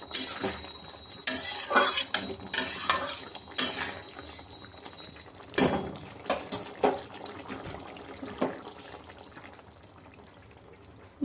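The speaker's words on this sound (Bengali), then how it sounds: "নেড়ে চেড়ে নামিয়ে নিব ভেন্ডি আলু তরকারি।" Metal spoon stirring an okra and potato curry in a cooking pot, with repeated scraping clinks and clatters against the pot in irregular bursts, close and fairly loud, fading to quieter stirring near the end.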